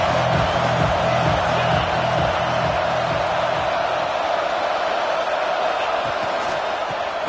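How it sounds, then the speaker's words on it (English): Home crowd at a Notre Dame versus Gators college football game roaring in a stadium, a loud continuous wash of cheering and noise that stays steady throughout, with voices buried in the din. "how nice is it to have the home crowd going absolutely bananas?"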